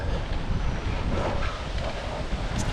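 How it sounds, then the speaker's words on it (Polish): Strong wind buffets the microphone at a hilltop summit beside an observation tower and veterans monument, a steady loud roaring rumble throughout with no one speaking. "Bardzo tu wieje."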